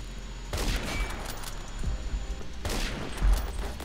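Gunfire from a Remington 700 sniper rifle in the video game Phantom Forces, with sharp shots landing over continuous background battle noise, two prominent loud blasts spaced a couple of seconds apart.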